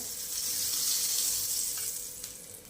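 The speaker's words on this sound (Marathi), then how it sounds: "गॅसवरती मी आधीच तवा तापायला ठेवला होता यावरती मी आता बटर घालून घेणार आहे" Butter sizzling on a hot tawa heated over a gas flame for a pea and potato paratha, a steady, close, bright hiss that fades slightly toward the end.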